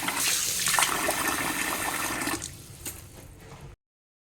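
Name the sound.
water washing mutton trotters (paya)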